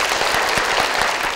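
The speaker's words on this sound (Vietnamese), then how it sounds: "Đó chính là bạn Hồng Phú, chúng ta hãy dành một tràng vỗ tay" A studio audience at a game show applauds in a steady, loud, dense burst of clapping. No voices are heard over it.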